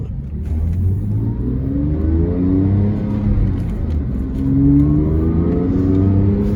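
A 2005 Porsche 911 Carrera S coupe with a six-speed manual accelerates hard on the road. The engine note climbs steadily through two rising pulls with a brief dip between them, loud and continuous, with no talking.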